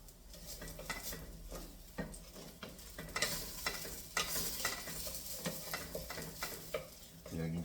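Chopped onions sizzle softly in a pan with a steady, low frying hiss, and a utensil scrapes and taps against the pan at irregular intervals throughout.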